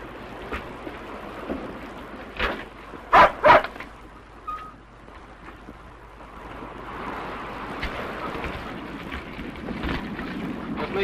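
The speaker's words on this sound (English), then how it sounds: "Our police dogs are tearing one to pieces unless they're with one of the family." Police dogs bark as a sound effect in a 1935 radio mystery drama, a few sharp barks in a quick cluster standing out over a continuous windy, surf-like background wash.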